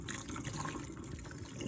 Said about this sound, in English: I walk over to the sink and I dump out the hot water